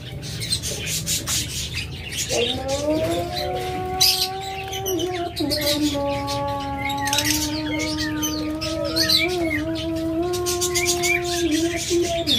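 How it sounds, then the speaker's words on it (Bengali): Diamond doves in a bird sale coo nearby in sustained, wavering tonal calls that run on for several seconds, with other birds chirping faintly in the background. "তাছাড়া রয়েছে হিউজ পরিমাণ ডায়মন্ড ডাব"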